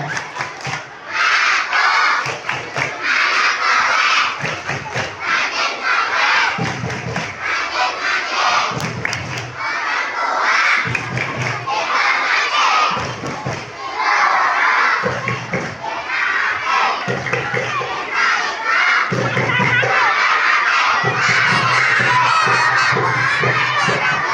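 Schoolchildren at a Maulid Nabi school event perform the tepuk anak soleh clapping chant, a loud crowd of young voices shouting in rhythmic bursts punctuated by claps, repeating over and over.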